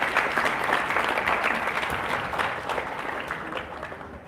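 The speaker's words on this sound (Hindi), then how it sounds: "एक बार ताली बजाओ इसके लिए." Sustained applause from a gathered audience at an evening religious discourse during a Paryushan festival in Malad, a dense, even wash of clapping holding steady for over four seconds before easing slightly near the end.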